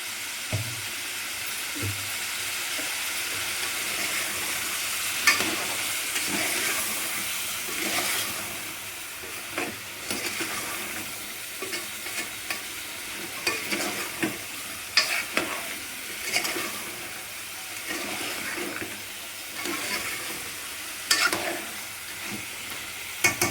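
Chicken curry sizzles and hisses in a pan while a utensil scrapes and stirs it in repeated strokes, close and fairly quiet, with no talking.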